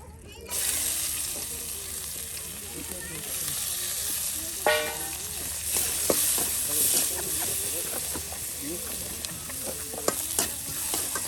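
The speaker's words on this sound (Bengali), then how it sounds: "মসমসে একদম তেলে ভাজা মরিচ ভাজি" Green chilies deep-frying until crisp in hot oil for a mashed bhorta, a steady close sizzle with scattered pops and crackles and a few clinks of a stirring spoon against the pan.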